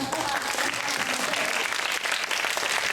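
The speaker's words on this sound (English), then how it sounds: "Oh, give yourself another round of applause." An audience at a talk or lecture applauds steadily, a dense, even wash of many hands clapping that fills the whole stretch without a break.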